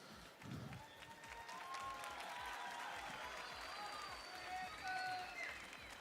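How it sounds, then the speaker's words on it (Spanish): Applause from a festival audience swells and stays steady for several seconds, a broad wash of clapping and crowd noise with faint voices mixed in. "yo les quiero pedir un fuerte aplauso para mi equipo"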